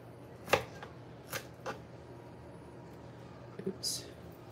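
A knife chops onions finely on a board in a home kitchen. There are a few sparse, quiet thunks with pauses between them, over a low room hum.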